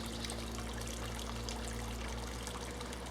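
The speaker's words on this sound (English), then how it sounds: "There is water, as you can hear." Faint, steady trickling of water at a small algae-covered pond, a soft continuous babble under a constant low background hum.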